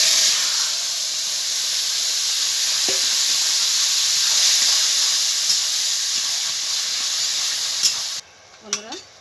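Curry vegetables for an ash gourd and coconut dish, with bay leaves, hit a hot pan and sizzle in a strong, even hiss that holds for several seconds, then cuts off sharply, leaving a few faint clinks.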